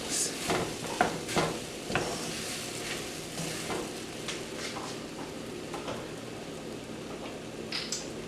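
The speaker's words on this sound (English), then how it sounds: "you're just continuing to stir while you add things." Tempeh sausage gravy being stirred in a pan while broth is added, giving soft scraping and light bubbling with a faint sizzle and a few sharper utensil knocks against the pan throughout.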